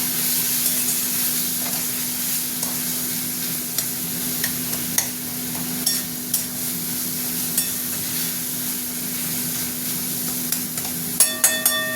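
Chili powder and salt fry in hot oil in a pan with a steady, close sizzle and occasional stirring scrapes, a few sharper metallic taps near the end.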